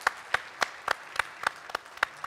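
An audience at a business summit claps in a modest round of applause, sharp individual claps standing out in an uneven rhythm, fairly close and moderately quiet, with no talking.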